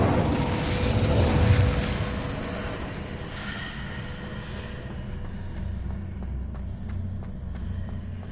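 A fire spell cast in the Hogwarts Legacy video game: a loud burst of roaring, crackling flame in the first two seconds that settles into a steady low rumble and fades.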